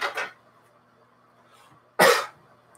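Two sharp coughs break a quiet room, one at the very start and a louder, harsher one near the end, with a brief lull between them.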